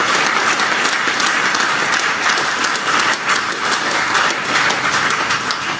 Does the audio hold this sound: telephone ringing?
no